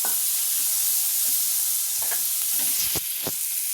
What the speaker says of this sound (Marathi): टोमॅटो आपल्याला छान परतून घ्यायचा आहे